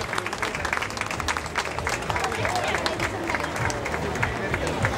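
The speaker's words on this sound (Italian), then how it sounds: "E l'applauso della piazza di Gibellina." Crowd applause fills the town square of Gibellina during a night festival, a steady dense wash of clapping with crowd murmur and babble mixed through it for the whole stretch.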